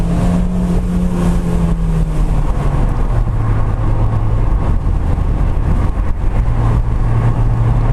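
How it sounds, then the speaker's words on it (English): A 2017 Fiat 124 Spyder engine revs and steps down through gears while driving, with steady loud engine drone and rising and falling pitch changes between downshifts, no talk. "Fairly decent downshift speeds there."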